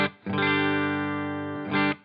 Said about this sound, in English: And this is just a hall reverb.